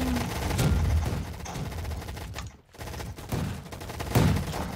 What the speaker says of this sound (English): I got a grenade launcher